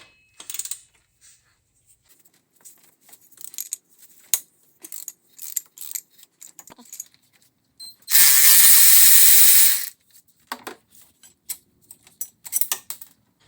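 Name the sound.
ratchet with 14 mm deep socket removing bolt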